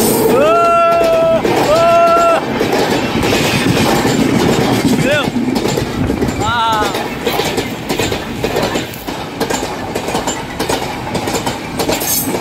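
A train passing close by gives loud continuous rumbling and clickety-clack of wheels on rails, with high horn-like squeals and wheel screeches early on, and a voice speaking under the din.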